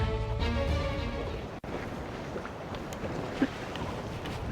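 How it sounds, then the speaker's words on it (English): Gale-force wind topping 40 mph roars across the microphone as a steady, loud broadband rush, broken by one brief dropout partway through, with no talking. "Golly, wind's blowing."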